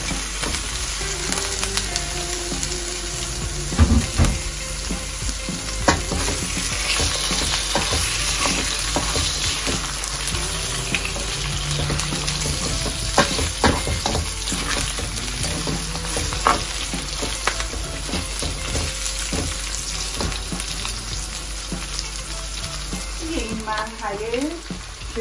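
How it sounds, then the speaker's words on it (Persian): Beef frying with softened golden onions in a pan for a celery stew with mint and parsley, a steady loud sizzle and crackle running throughout with occasional stirring scrapes and clinks. "گوشتامو تفت میدم با پیازام."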